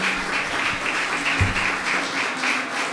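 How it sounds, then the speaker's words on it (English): Steady applause from a crowd, a continuous wash of clapping at moderate volume with no voices standing out. "can we have a round of applause?"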